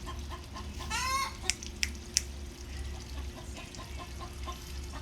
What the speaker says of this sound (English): Chickens are so loud.